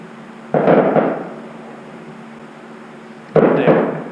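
Fireworks go off on the Fourth of July as two separate muffled bursts a few seconds apart, each a sharp thump followed by a short rumbling decay over a faint steady hum.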